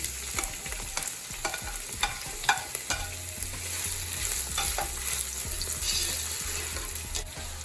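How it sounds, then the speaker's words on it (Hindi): Two large chopped onions fry in hot oil in a pan, a steady close sizzle with scattered crackles and occasional stirring scrapes, continuous and unbroken, with no talking. "अब मैं डाल के फ्राई करूंगी"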